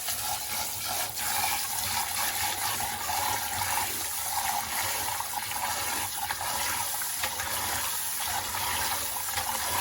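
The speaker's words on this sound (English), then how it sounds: "you're basically washing some of the starch out" Two cups of long grain rice being washed in water to rinse out starch, with a steady close rush of running water and sloshing, loud and continuous, no talk.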